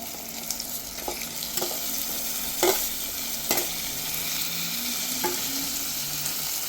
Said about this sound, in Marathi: कांदा चांगला परतलेला आहे. आता आपण टोमॅटो टाकूया.